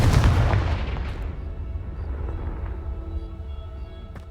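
A Confringo spell blast in Hogwarts Legacy lands as one loud, deep boom at the start and then rolls off into a long, fading rumble, with a faint later crack.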